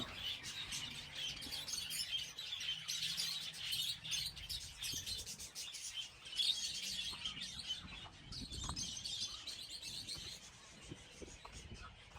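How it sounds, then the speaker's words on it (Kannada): Lovebirds and parrots chatter in an aviary with a dense, continuous layer of high chirps and tweets, moderately faint and steady throughout, with a few louder calls standing out. "ಇಲ್ಲಿ ನೋಡಿ ಪಕ್ಷಿಗಳು, ಲವ್ ಬರ್ಡ್ಸ್ ಮತ್ತು ಗಿಳಿ."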